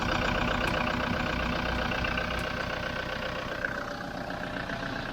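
Toyota Land Cruiser engine running steadily during a battery charging test, a continuous close idle drone with a faint whine, no talking.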